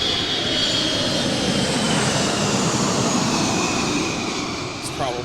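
An airplane flying overhead near a beach, a steady broadband engine roar holding loud and even for the whole stretch before easing slightly at the end.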